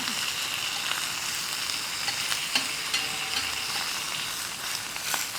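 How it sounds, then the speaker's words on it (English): Pork shoulder browning in a hot pan gives a steady, close sizzle and crackle of frying meat, with a few faint clinks and pops over it. "Then I'm gonna let the pork brown on all sides."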